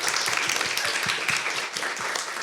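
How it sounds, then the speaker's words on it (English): An outdoor street event crowd gives a short round of applause, a fairly soft, dense patter of many hands clapping together for a couple of seconds, without voices standing out. "Everyone gets a round of applause."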